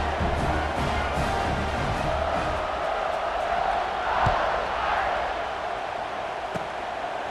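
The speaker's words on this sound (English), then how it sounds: "this crowd is feeling themselves after that last drive" A stadium crowd roars in EA Sports College Football 26 during a kickoff, a broad sustained cheer that swells and ebbs throughout, with occasional sharp thuds cutting through.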